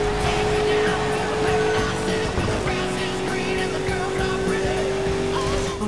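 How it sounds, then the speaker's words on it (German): A car handbrake slide in Burnout Paradise: steady loud engine drone with a tire squeal that shifts pitch partway through, continuous and close throughout, with no speech. "Der Handbremsenslide ist vielseitig einsetzbar."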